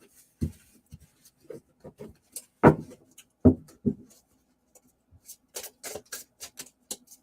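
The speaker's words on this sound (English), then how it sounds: "So I'm just trying to shuffle my cards, and I seem to be having great difficulty with it." Oracle cards being shuffled and fumbled by hand, sparse soft clicks, slaps and riffles in irregular bursts, close and quiet with no talking.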